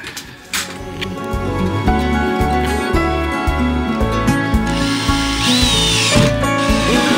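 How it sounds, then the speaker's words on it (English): Power drill driving screws while building out a camper van, a steady loud whir with repeated short bursts and pauses as each screw goes in, close up with no talking. "I just need to know where I can drill the Screws into."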